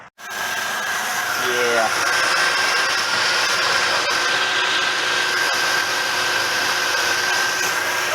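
A vehicle engine idles steadily after being started, a continuous rumbling drone close by that holds level throughout, with a brief word spoken over it.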